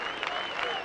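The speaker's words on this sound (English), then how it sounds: "some of the Sycamore fans starting some clapping" Sycamore fans clap in the stands at a 1986 Oklahoma State vs Indiana State college baseball game, a brief, steady spread of crowd applause with a voice faintly present.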